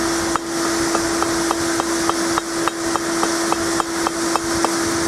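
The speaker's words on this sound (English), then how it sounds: "We'll always use a little hammer for rolling." A small hammer taps a forged metal keychain feather with light, evenly spaced strikes about every quarter second, close and crisp over a steady background hum.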